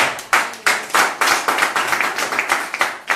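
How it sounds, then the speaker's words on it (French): A church congregation claps in praise, a loud, close run of rhythmic, evenly spaced claps from many hands keeping a steady beat, with no voices over it. "Acclame pour le Seigneur."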